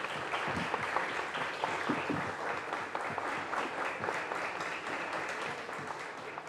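Steady applause from an audience at a youth debate event, dense clapping that holds even and fairly loud throughout, with no voices breaking through.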